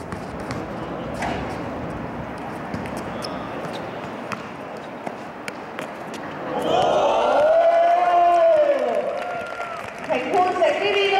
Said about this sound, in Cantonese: 評判席呢啲都傳來一陣嘅歡呼聲啊！